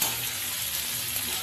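Pointed gourd, potato and pumpkin pieces stir-fried in a pan give a steady, even hiss of frying with no break, close by and moderately loud, with no voices over it.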